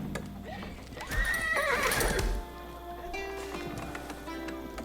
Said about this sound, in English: Let's get some horses out.